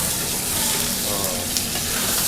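Pieces of paneer frying in hot oil in a busy dhaba kitchen, a loud continuous close sizzle with no talk over it.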